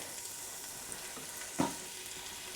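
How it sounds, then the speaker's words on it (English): Roughly chopped onion frying in an Instant Pot for a leftover turkey curry, giving a faint, steady sizzle with one brief clatter partway through. "Now we're going to add in the chopped onion, so roughly chopped onion."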